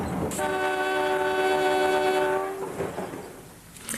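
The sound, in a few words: train shunting on railway line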